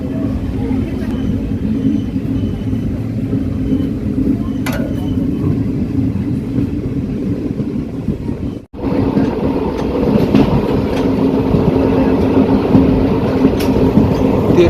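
A passenger train rolling along rails between Madurai and Thiruvananthapuram gives a loud, steady rumble and clatter with a short sharp break midway, then carries on heavily.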